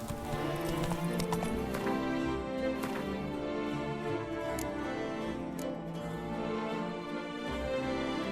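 Horse hooves gallop in The Witcher 3, a steady rapid clip-clop running throughout under a dense layer of game music and ambience.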